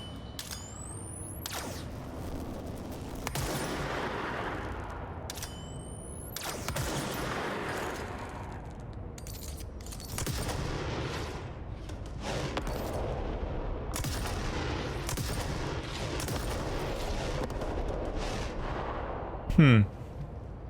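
Gunfire from an aimed weapon in the video game Control, a few loud sharp shots spaced through a steady bed of game ambience and some speech, with a clear louder burst near the end.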